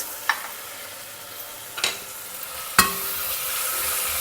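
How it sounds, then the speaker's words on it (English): Onions and frozen green peas sauteed together in a pan for a pulao, giving a low steady sizzle with three sharp scrapes or stirs of a spoon against the pan, no talking. "Saute everything together."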